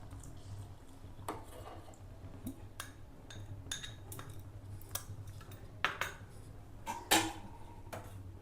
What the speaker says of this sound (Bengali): তো আমি দেখুন কাস্টার্ডটা এবার মিক্স করে দেবো।